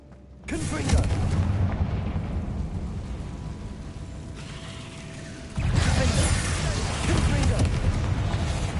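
A Confringo fire spell blasts in Hogwarts Legacy on PS5, a loud booming explosion that swells in and rumbles on, then a second heavier burst about halfway through, with game effects and a voice underneath.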